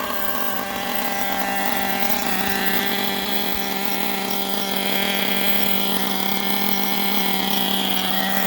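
A Gimar P5 nitro engine with a P3 glow plug, freshly broken in, runs in a Hyper 7 buggy, holding a loud, buzzing, steady high-pitched drone without letup.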